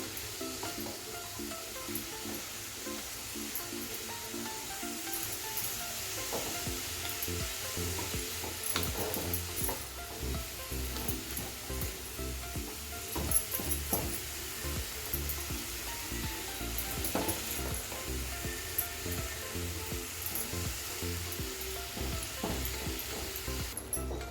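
Grated carrots cook in melted jaggery in a pan, giving a continuous sizzling hiss with a steady scrape and tap of stirring throughout. The sound is close and even, with no talking.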